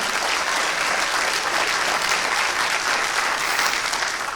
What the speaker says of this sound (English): let's give the sister a round of applause for that great question